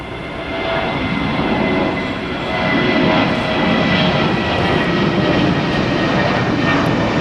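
An Airbus A319 airliner in America West retro livery, seen during plane spotting at Tampa, gives a loud, steady jet engine roar that stays close and constant throughout, with no voices over it.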